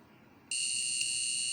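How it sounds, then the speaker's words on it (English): A PIC16F876A-based alarm clock with a 4-digit 7-segment display sounds its alarm buzzer: a loud, steady electronic tone starts abruptly after a short quiet moment and holds constant, heard alone. "So the alarm has gone off."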